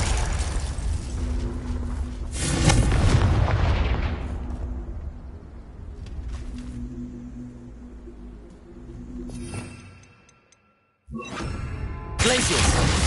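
A Confringo explosion spell cast in the game Hogwarts Legacy bursts in a loud, rumbling boom that rolls and decays over a few seconds, followed by further spell blasts and game effects, with a brief drop to silence before the action resumes.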